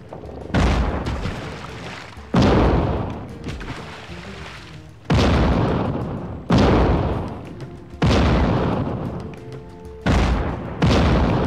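Cannon shots in the PS2 game Hugo Cannon Cruise, seven loud booming blasts at irregular intervals of one to three seconds, each with a long rumbling decay, no talk over them.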